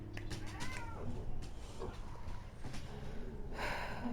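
A cat meows a few times, short, close calls over a steady background of game sound and noise, with no voices.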